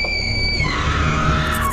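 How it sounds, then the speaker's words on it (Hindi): A woman screams loudly in terror as a dramatic effect in a horror audio story, a sustained high, piercing shriek that bends downward partway through and fills the short moment alone. "राक्षस का असल रूप देखते ही वो गला फाड़ कर चीख पड़ी।"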